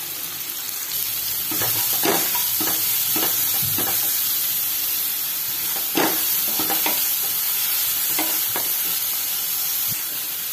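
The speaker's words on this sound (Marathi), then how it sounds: "कांदा हलकासा लाल होऊ देऊया आपण।" Onion frying in hot oil with mustard and cumin seeds, a steady close sizzle broken by repeated stirring scrapes and clicks of a spoon against the pan throughout.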